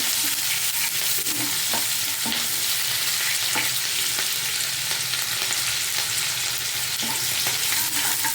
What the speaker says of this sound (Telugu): ఇప్పుడు ఒకటి చిన్న ఉల్లిపాయ వేస్తున్నాను